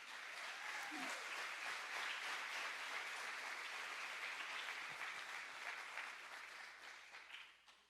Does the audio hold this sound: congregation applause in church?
yes